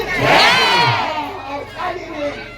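A large crowd at a devotional Devi Bhagavat katha gathering shouts back in unison to a call praising the goddess Kalika, a loud swelling chant that fades into scattered voices.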